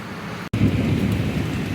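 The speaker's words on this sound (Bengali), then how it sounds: "প্রচুর বৃষ্টি হচ্ছে দেখো" Heavy rain pours down steadily, blowing in from the Ganges side, as a dense, loud, close hiss broken only by a very brief dropout, with no voices.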